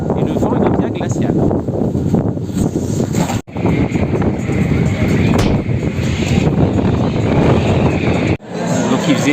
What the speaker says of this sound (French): Et le vent il est bien glacial.